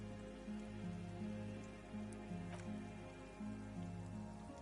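Rain falling on a rooftop in a video game scene at night, a faint steady patter over a low droning musical background that pulses in a slow repeating pattern.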